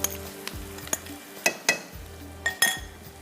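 Onion frying with dry masala for aloo sabzi, a crackling sizzle with several sharp clinks and scrapes of a spoon stirring against the pot, close and fairly loud, no talking.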